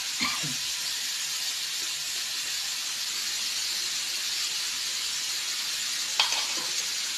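Holy basil (kaphrao) stir-frying in a hot pan, a steady loud sizzle and hiss throughout, with a couple of brief scraping clinks of the utensil near the start and again toward the end.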